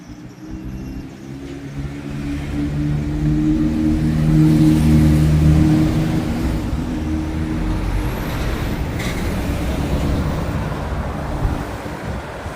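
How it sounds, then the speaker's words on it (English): Big lorries rumble through a town centre street, a loud continuous low engine drone swelling and fading as heavy vehicles pass close by, with wind buffeting the microphone and no talk. "having these big lorries going through the town centre like that?"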